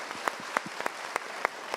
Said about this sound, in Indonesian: Kita berikan tepuk tangan untuk Bapak.